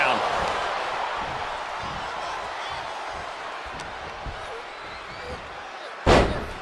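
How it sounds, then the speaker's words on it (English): A wrestler is slammed down in a wrestling video game, heard as a single loud impact near the end of the clip, rising over a steady crowd roar that runs throughout, with commentary talk over it. "Gets slammed down."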